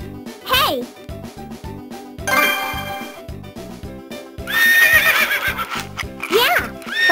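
Several cartoonish horse neighs and whinnies ring out in the Bubble Guppies DS game, loud and near, over bouncy game music with brief child-like voices between them.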